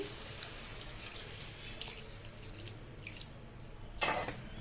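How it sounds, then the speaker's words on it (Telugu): Water trickles and splashes into a pot of curry under a low background hum, ending in a short louder pour near the end; nobody speaks. "ఇప్పుడు వాటర్ వేసుకుంటున్నామండి"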